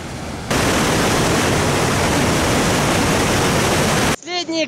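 A small waterfall gives a steady, close, full rushing roar that starts abruptly and cuts off near the end, where a brief voice is heard.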